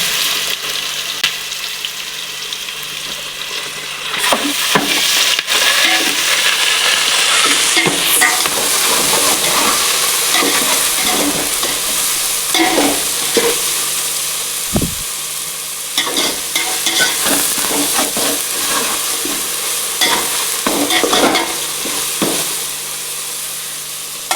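Onions and ginger paste fry loudly in a pan for biryani, a continuous close sizzle broken by repeated scraping and clattering stirs, with a sharp knock midway and no speech.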